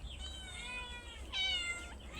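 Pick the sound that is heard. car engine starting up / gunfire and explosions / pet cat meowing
pet cat meowing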